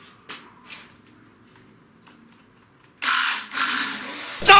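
A table saw dowel-making rig spins a plywood dowel blank: after a quiet start with a few faint knocks, a loud motor whir kicks in partway through and holds steady, briefly dipping, then surges louder at the end, with no talking.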